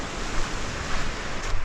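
River rapids and small waterfalls on a canoe route along the Haliburton water trails pour with a steady, close, full-bodied rushing roar and no voices.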